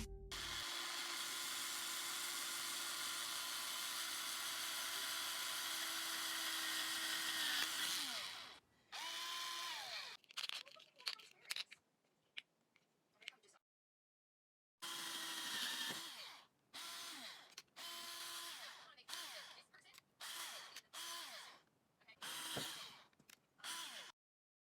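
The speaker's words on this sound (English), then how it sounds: "I drilled into some bottle caps or pill caps" A power drill whines steadily for several seconds, then short bursts of drilling into plastic bottle caps with whirring spin-ups and clicks, starting and stopping irregularly at close range.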